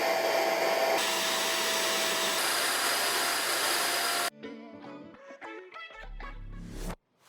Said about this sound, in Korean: 콧물 흡입기의 소음과 발열 때문에 사용하기 힘들다는 분들도 있으신데요.